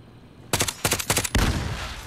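Gunfire in the video game Modern Warfare Warzone: a quick volley of four or five sharp shots in rapid succession, then a heavier blast that rings out and fades, loud and close.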